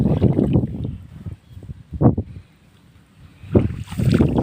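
Strong wind in the Isan countryside of northeastern Thailand buffets the microphone in loud rumbling gusts, rising and falling in waves with short quiet gaps between them.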